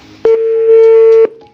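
A single steady telephone tone sounds for about a second, loud and close, suggesting a phone dialing or ringing out.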